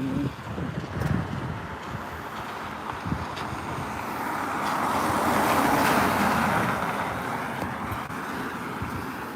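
Cars drive through a roadside puddle, and a broad wet swell of splashing and tyre hiss rises to a peak midway and then fades, over steady outdoor wind noise.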